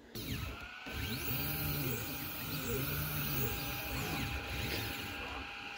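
An ACMER S1 laser engraver runs a speed test at its maximum speed of 10,000 mm per minute, its motors whirring in repeated rising and falling sweeps, steady and fairly faint throughout.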